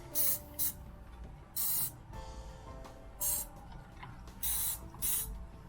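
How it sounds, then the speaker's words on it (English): A spray bottle mists water onto hair in about six quick, sharp hissing bursts, close and separated by short quiet gaps. "spray it with a little water"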